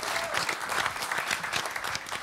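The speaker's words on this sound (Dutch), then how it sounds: "Geef ze een groter applaus" A studio audience applauds at a TV quiz show, dense and continuous clapping filling the short stretch at an even, lively level.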